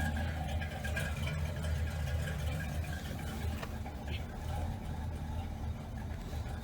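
A 1986 Chevrolet C10 pickup engine idles low after a cold start, a steady rumbling drone at moderate level with no revving.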